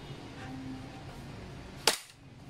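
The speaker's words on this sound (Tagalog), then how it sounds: "akala mo bumabaril ka ng tunay na baril pero airsoft" Single sharp crack of a gas-powered Umarex Glock 17 Gen 3 airsoft pistol with steel slide and barrel, one close shot against quiet background noise.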